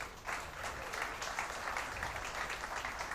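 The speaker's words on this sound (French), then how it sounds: "On peut l'applaudir." An audience applauds a speaker at a regional business awards evening, a steady, dense wash of clapping from many hands that fills the whole stretch without a break.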